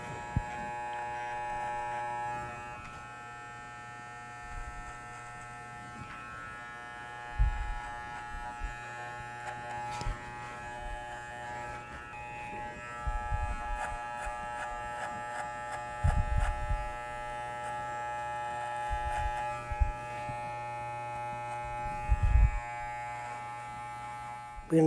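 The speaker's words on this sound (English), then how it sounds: "As you can see, the clipper's angled at 45 degrees." An electric hair clipper tapering the perimeter of a haircut, held at a 45-degree angle, gives a steady close buzz with intermittent bumps and thuds as it works the hair.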